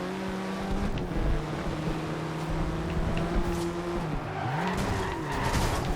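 A car skidding during a race in Forza Horizon 2, without race tires: engine drone with a long tire squeal that bends in pitch, steady and close, no talking.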